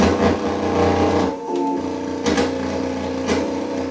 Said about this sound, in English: if I actually tap the head, you'll hear the sound will change. Right, you hear the pitch change.